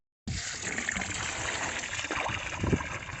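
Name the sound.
hose filling a water trough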